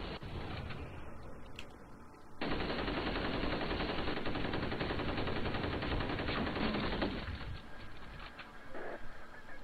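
An enemy's Gatling gun rattles in F.E.A.R., a rapid continuous stream of shots that suddenly jumps louder partway through, holds as sustained automatic fire and then thins into scattered bursts.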